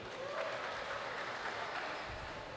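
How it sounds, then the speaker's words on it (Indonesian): A crowd claps for Sabam Manalu at a Pesta Gondang celebration marking the fourth anniversary of PETRA, a steady, fairly soft wash of applause heard from a distance in a reverberant hall. "tepuk tangan untuk beliau"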